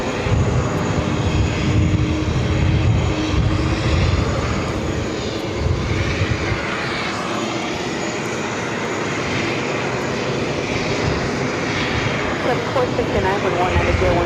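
Jet airliner engines at JFK airport roar loudly and steadily throughout, a continuous broadband rumble with people talking over it.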